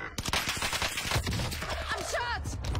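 Video game gunfire crackles in a rapid close burst of sharp shots, with a player's voice and other game sounds over it.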